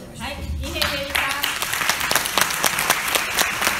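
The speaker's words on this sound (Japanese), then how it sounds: "もう一度皆さんの大きな拍手をお願いします。" An audience at a stage event for the Okinawan language breaks into lively applause: a dense, continuous patter of many hands. A voice is heard briefly at the start.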